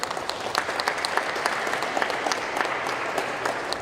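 A modest crowd claps at a Honolulu mayor's bill-signing event in honor of the youth leadership. The sound is a steady patter of applause at moderate distance for nearly four seconds.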